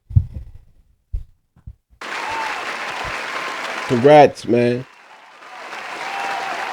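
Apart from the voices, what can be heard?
audience applause for Drew Brees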